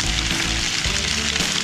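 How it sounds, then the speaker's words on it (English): Butter melts and sizzles on potatoes inside a tinfoil dinner set in a campfire, a loud, dense, continuous crackling hiss at close range with no voices. "That sizzling is the butter melting and boiling and searing right into the potatoes."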